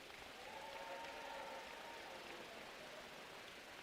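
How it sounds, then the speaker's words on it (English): Applause from an audience at the Charlies Awards ceremony, honoring the nominees, comes through as a faint, steady wash of clapping that holds evenly across the few seconds with no break. "let's give a big round of applause to all of our nominees."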